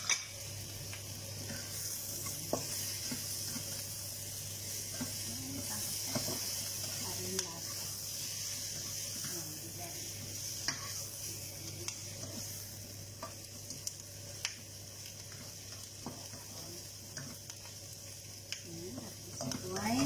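Fried pork pieces returned to a pot for pochero sizzle steadily while being stirred, a continuous hiss with occasional scraping clicks running throughout, close by and moderately quiet.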